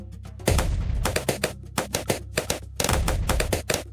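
Gunfire from a shooter in the video game Augmented Empire comes as loud, sharp shots, mostly in quick bursts with short gaps between them, and no voices are heard.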